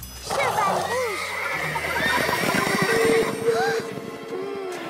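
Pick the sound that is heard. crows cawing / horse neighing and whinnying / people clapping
horse neighing and whinnying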